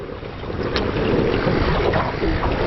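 Strong wind buffets the microphone on a remote island shore, a loud, constant roar with gusty swells and surf faintly mixed beneath.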